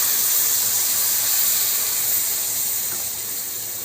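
Tea-leaf water poured into a pot of cooking chickpea masala, a steady close rushing pour with hiss that fades slightly toward the end.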